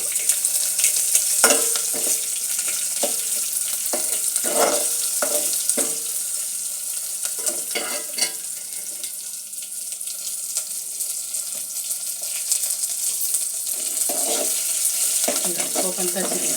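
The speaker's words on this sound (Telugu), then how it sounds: "పోపు చక్కగా వేగుతుంది, తేనె రంగులోకి వస్తుంది" Tempering spices, including asafoetida and curry leaves, fry in hot oil for a sweet pumpkin curry. A soft sizzle runs under repeated scraping stirs of a spoon against the pan, with a few louder clanks near the end.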